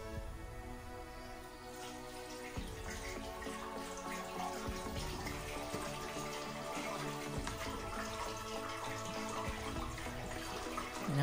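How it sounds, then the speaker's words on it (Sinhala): Plain water running steadily into a Honda CD125 motorcycle fuel tank that already holds salt water for electrolysis rust removal, a faint continuous pour with a rising hollow resonance throughout. "ඊළඟ කටමට්ටමට වතුර පුරව ගන්න ඕන"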